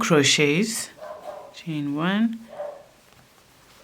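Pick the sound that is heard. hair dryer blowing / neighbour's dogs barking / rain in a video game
neighbour's dogs barking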